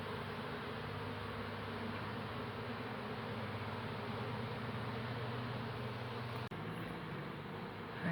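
Honeybees from a hive at least a year old, being relocated from a brick structure, keep up a steady, faint, dense hum as the comb is cut out, with one brief knock near the end.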